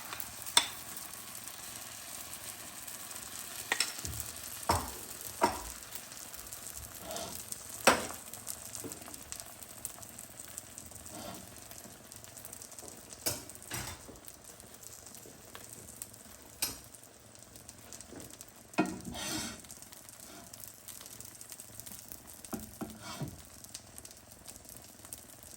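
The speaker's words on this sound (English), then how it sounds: "I'm just going to add again a little bit more of my egg mixture." Egg mixture for a Korean rolled omelette sizzles steadily in a pan, a soft continuous frying hiss with scattered sharper crackles and occasional scraping or stirring sounds, close and fairly quiet throughout.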